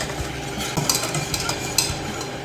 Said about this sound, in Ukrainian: Спочатку додаємо половину молока, і перемішуємо.